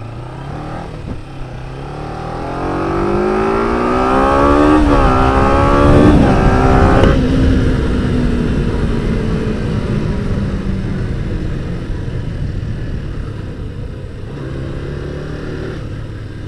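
A Kawasaki ZZR 250 motorcycle on a test ride revs loud and close, its engine whine climbing steadily in pitch before easing back and settling into a lower drone.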